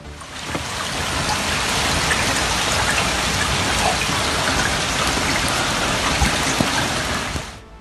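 Heavy, steady rain pours during flooding in Finistère, Brittany, France, a dense wash of drops hammering surfaces with a few louder splashes, constant and close from start to finish before fading at the very end.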